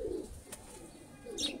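An Ali wala pigeon gives soft, low coos at the start and end, close but quiet, separated by a brief sharp tap.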